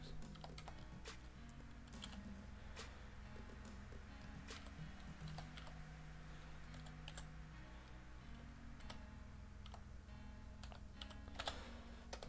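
Password being typed on a computer keyboard, a steady run of close, quiet key clicks with uneven rhythm and a few louder taps, alone with no talk over a low background hum.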